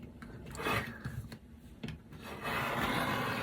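A cutter blade trims a quilt block with close, rough rubbing strokes, several short scrapes followed by a longer sustained cut, with no talk.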